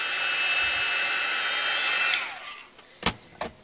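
Heat tool whirring steadily for about two seconds while drying a freshly stamped Christmas tag, then switching off and winding down, followed by a few soft clicks and handling knocks.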